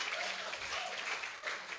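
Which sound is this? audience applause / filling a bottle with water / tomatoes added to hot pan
audience applause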